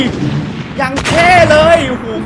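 A short, punchy explosion bursts out in a Troll Face video game, loud and close, with a voice talking over the game sounds around it.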